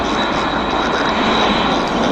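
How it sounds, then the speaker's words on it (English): A small propeller plane at Vancouver International Airport gives a loud, steady engine roar close by, filling the whole moment without talk. "Kind of loud for a small plane."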